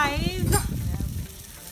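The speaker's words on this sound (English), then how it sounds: "I'm just going to let the steak cook a little bit more" A thick-cut T-bone steak frying in a pan, a steady close sizzle with crackling spatters under a faint background voice.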